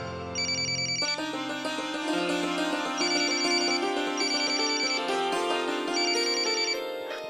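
A phone rings with a repeating electronic melody, steady and fairly loud, cycling through several bursts without any voices.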